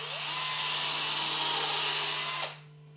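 A power drill set to drilling mode at its fastest speed bores into wood with a steady high whine for over two seconds, then stops abruptly, close and loud.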